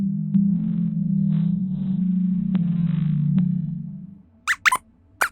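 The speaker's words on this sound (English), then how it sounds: "Here's what a blue whale's song sounds like." A blue whale song plays as a long, low, droning moan that swells and holds for about four seconds, then fades, followed by a few brief high squeaky chirps near the end.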